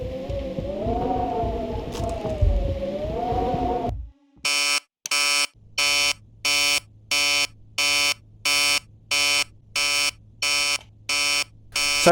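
Alarm ringing in the horror video game Emily Wants To Play Too, a loud electronic buzz pulsing in regular on-off bursts of about half a second each, following a sustained eerie droning tone.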